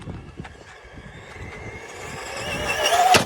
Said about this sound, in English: I hit the gas right at the last second and pulled that landing out